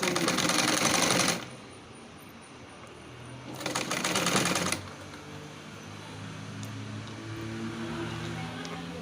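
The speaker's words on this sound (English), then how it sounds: "So I'll start sewing." A sewing machine stitches a ruffle dress in two loud, steady whirring bursts separated by a pause, then a quieter low hum runs underneath to the end.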